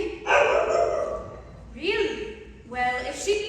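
A dog bark effect in a stage production of Mary Poppins sounds as three separate barks spread over a few seconds, each loud and voiced, with a theatre setting around them.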